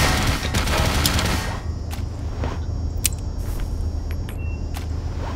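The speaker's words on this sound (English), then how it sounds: "There's a turret." Rapid turret gunfire from Black Mesa: Azure Sheep rattles in a loud dense burst for about a second and a half, then gives way to scattered sharp shots and a steady low rumble.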